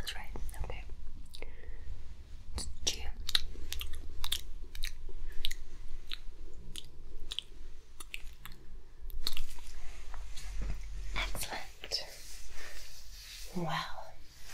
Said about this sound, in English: can you pretend that you're chewing?